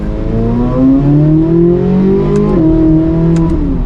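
Stock 2024 Chevrolet Corvette C8 Z06 3LZ with factory exhaust, revving loudly up close: a strong engine tone climbs and falls, then dips and holds, with a couple of faint clicks over it.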